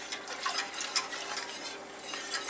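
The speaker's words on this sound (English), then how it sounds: "Really make sure you stir it good." Spoon stirring a creamy mac and cheese sauce with milk in a pot, a soft continuous scraping and swishing with faint clinks, close and quiet with no talk.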